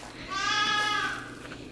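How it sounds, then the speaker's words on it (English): A single high, wavering bleat from a young goat, close and clear, lasting about a second against quiet background noise. "We have baby goats screaming"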